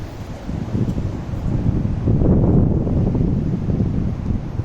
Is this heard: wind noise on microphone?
yes